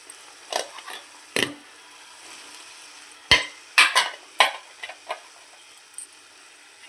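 Cluster beans frying in oil for a tomato curry, a faint low hiss broken by sharp spoon clacks and scrapes as they are stirred now and then in the pan, no voice.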